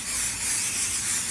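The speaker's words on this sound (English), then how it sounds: "For myself, I like to use a temporary spray adhesive to hold" Temporary spray adhesive hissing from an aerosol can onto embroidery stabilizer, a steady close spray lasting the whole moment with no talk.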